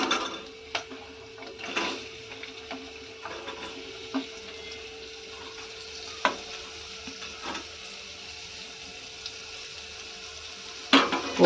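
Onion frying in a pan for a brinjal and potato curry, a low steady sizzle with a faint hum and occasional scrapes and knocks of a spoon against the pan, quiet and close.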